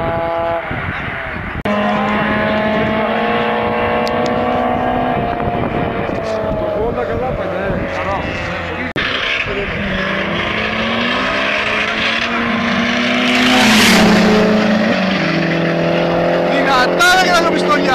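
A Fiat Cinquecento races a Mazda MX-5 on a dusty track, with engines droning and shifting pitch as they rev and pass, tyres skidding, under continuous excited race commentary.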